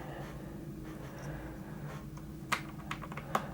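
Switch pressed back into a GK61 mechanical keyboard with red switches, soft fiddling clicks and a couple of sharper close clacks near the end, heard alone.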